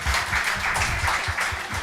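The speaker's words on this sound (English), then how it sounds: "Can we welcome them with a huge round of applause?" An audience claps steadily throughout, a dense, sustained round of applause welcoming speakers at the Bhopal Literature & Art Festival.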